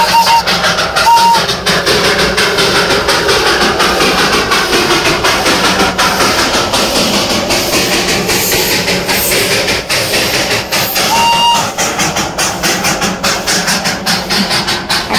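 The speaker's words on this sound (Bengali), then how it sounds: "টয় ট্রেনটি ধোয়া ওড়াতে ওড়াতে আমাদের সামনে দিয়ে চলে গেল" Darjeeling toy train rolling past close by, a loud continuous rumble of engine and wagons with rhythmic rail clatter and a couple of short whistle-like tones throughout.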